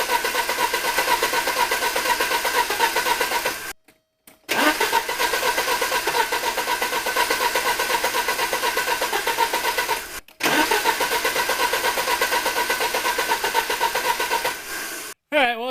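A 1983 Porsche 944 Turbo engine cranks on a jump starter in long, loud, close bursts of starter whirring, broken by brief pauses, with a voice heard at moments.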